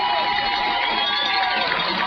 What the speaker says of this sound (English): Gives the fans a chance to cheer here at Lyle Harris Stadium.